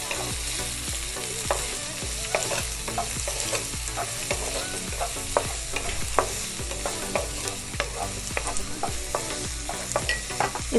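Chopped medium onion sautés in oil in a pan, a continuous crackling sizzle broken by repeated rhythmic scrapes and taps of a spoon stirring, with no talking.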